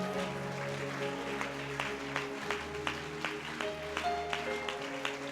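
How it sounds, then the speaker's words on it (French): A church congregation applauds at a worship service, the clapping moderate and fairly distant under sustained organ or keyboard chords. "Est-ce que tu peux l'acclamer?"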